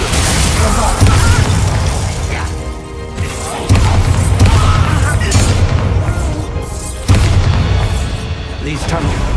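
Bombarda blasting spell going off in a wizard video game, with repeated heavy booming impacts and crashing bursts layered over dense game music and effects, loud and close.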